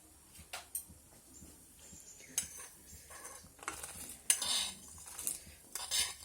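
Black sticky rice is added to a pot of boiling milk with bay leaves for kheer, then stirred: quiet, scattered clinks and scrapes of a utensil against the pot, close by, with soft pauses between.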